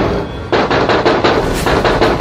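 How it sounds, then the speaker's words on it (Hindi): Loud, rapid knocking on a seventh-floor window, used as a horror story sound effect, repeats in a steady series of sharp raps that fill the short clip alone. "जोर जोर से खिड़की खटखटाने लगी।"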